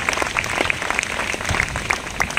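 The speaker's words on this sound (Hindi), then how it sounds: "और तालियां बजाओ मेरी मां के लिए।" An audience applauding at a speech event, heard as sustained, dense clapping from many hands at a steady level throughout, with no voices standing out.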